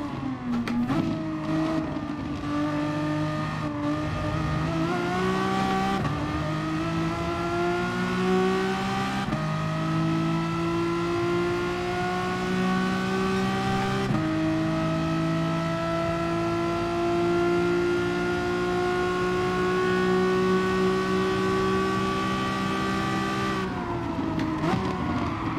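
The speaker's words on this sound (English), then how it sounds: "I'm driving the Renault Megane Trophy." A Renault Megane Trophy race car in GT Sport revs loudly and continuously, its engine pitch climbing through the gears with brief drops at each shift, alone and up close.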